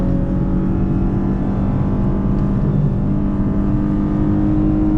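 The engine of a tuned 2017 Lexus IS350 with full bolt-ons drones steadily and loudly while driving, a continuous low rumble with no voices over it.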